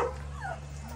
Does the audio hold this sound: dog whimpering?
yes